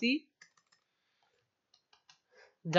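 Scattered keystrokes on a computer keyboard as a compile command is typed: a few light, sparse clicks in near quiet, with brief speech at the start and end.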